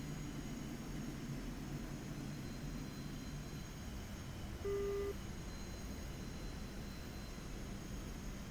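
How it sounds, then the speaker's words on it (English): Planes take off in the DCS flight sim, heard as a faint, steady engine roar in the distance, with a short beep partway through. "There's two planes taking off at the moment"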